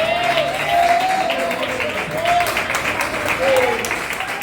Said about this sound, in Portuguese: das melhores salvas de palmas para Jesus, igreja